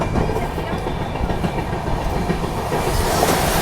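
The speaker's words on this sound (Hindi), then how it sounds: "अच्छा ये है आपकी CR का रेक है, सेंट्रल रेलवेज की कोई गाड़ी है, स्पेशल ट्रेन" A Central Railway special train rake passes close by on the New Delhi–Prayagraj route, a steady loud rumble of wheels with rhythmic clickety-clack over rail joints, continuous throughout.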